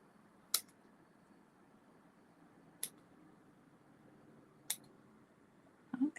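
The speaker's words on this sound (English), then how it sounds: "as you trim it up, shape it up however you want it to be" Scissors snip embroidery yarn on a sweatshirt in three crisp, isolated cuts spaced a couple of seconds apart over a quiet background, then a brief rustle at the end.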